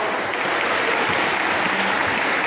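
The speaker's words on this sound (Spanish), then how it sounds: "Blasio, un fuerte aplauso." Sustained loud clapping from a congregation at a revival meeting in Bolivia, a thick even roar of many hands with faint voices mixed in.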